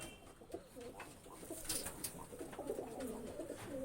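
A male Madras pigeon of the Kaldoma colour coos in low, repeated throaty bursts, moderately close, mixed with faint background chatter and other bird noise throughout.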